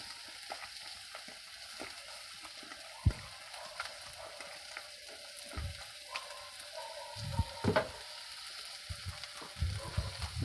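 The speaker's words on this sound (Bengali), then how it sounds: "তার করতে পেঁয়াজটাও ভাজা হচ্ছে।" Onions sizzle in a frying pan in a home kitchen, a low continuous crackle broken by a few sharp stirring clinks and scrapes, with no talking.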